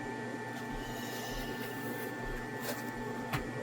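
An xTool WonderPress mug press machine runs with a steady, continuous mechanical hum and a faint whir at an even level, with a couple of brief soft clicks near the end and no talking.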